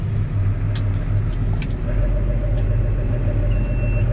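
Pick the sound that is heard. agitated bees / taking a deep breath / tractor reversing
tractor reversing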